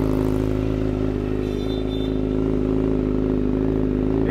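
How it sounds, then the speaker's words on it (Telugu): A Kawasaki Z900 or Hayabusa superbike engine runs steadily at idle nearby, a loud, continuous low mechanical drone with faint clatter and no rev changes. "దీని సౌండ్ ఏంటనే ఒక సపరేట్ ఫీలింగ్ ఉంటుంది అనమాట different satisfaction super bike sound"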